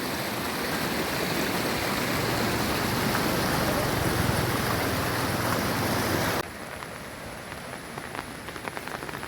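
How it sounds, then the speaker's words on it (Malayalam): Muddy floodwater from a river pours into a rubber plantation with a loud, steady broadband rush that suddenly drops to a quieter, continuing flow partway through. "വെള്ളം കയറിക്കൊണ്ടിരിക്കുകയാണ്."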